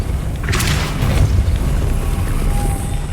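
Depulso spell cast in the Hogwarts Legacy video game, a forceful booming whoosh with a brief bright burst, loud and close over a dense rumbling game backdrop.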